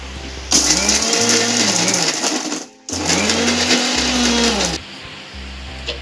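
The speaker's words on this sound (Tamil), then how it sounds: "வெங்காயம், பெரிய வெங்காயம், தக்காளி, ஒரு சின்ன தக்காளி ஒன்று, இது நல்லா போட்டு இதில் வந்து மிக்சியில் இப்போ நம்ம அரைச்சிக்கிறோம்" A kitchen mixer grinder blends chopped big onions and a small tomato for a village-style brinjal kuzhambu, running in two loud, steady whirring bursts with a short pause between, a low motor hum showing underneath and no talking.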